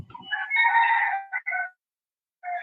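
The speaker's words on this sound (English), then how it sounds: "there's our chickens" A rooster crows near the microphone among chickens: one long, loud crow followed by two shorter calls after a pause. A brief low rustle comes at the very start.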